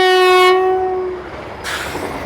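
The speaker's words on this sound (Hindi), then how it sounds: "Katra Vande Bharat overtake, Amritsar Vande Bharat overtake." A Vande Bharat express train on an Indian rail line sounds a loud, sustained horn blast that cuts off, followed by the rushing wash of the train passing close by.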